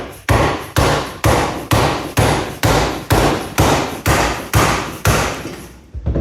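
A bearing support plate is hammered onto the countershaft of an R32 GTR gearbox. About a dozen loud, sharp metallic blows land in an even, steady rhythm, each ringing briefly before fading.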